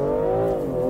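A BMW engine revs hard at launch control, a brief loud rising mechanical whine with strong harmonic tones held close to the microphone.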